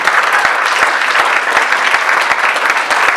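An audience bursts into sustained applause during a US congressional representative's speech on passed bills, dense, even clapping filling the full three seconds with no speech over it.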